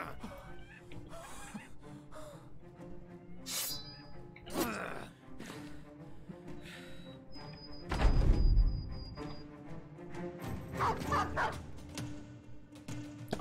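A dog barks and yips in the Battle Brothers video game, a few short calls standing out over a busy battle soundscape of clashes and effects, with a louder burst midway.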